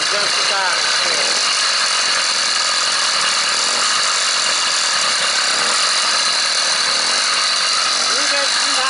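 Small gas engine fitted to a bicycle idling nearby, giving a steady, loud buzzing whine with a rattly edge that runs without a break and keeps an even pitch throughout.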